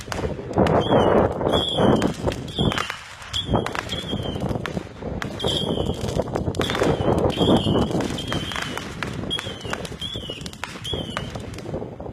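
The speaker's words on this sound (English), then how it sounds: "Show the fireworks." Fourth of July fireworks and firecrackers go off outdoors at a golf outing, a rapid string of sharp crackling pops and bangs over several seconds, with whistling tones repeating throughout.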